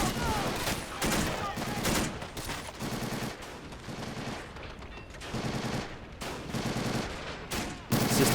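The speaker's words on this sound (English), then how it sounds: "That's a lot of semi-automatic rifle fire." Semi-automatic rifles crack in repeated shots and short bursts across a WWII-era Pacific battle on Tarawa Atoll in a video game, irregular and dense, trading back and forth at moderate distance.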